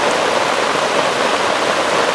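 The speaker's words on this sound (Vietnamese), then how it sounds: "Các bác nhìn mưa nó đang đi rồi" Steady heavy rain sweeps over a river, a dense continuous hiss of drops striking water that stays loud and even throughout with no voices.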